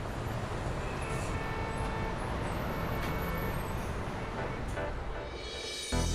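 Steady roadway traffic with cars passing and a dense, continuous rumble of engines and tyres, a faint horn-like toot poking through near the middle, no one speaking.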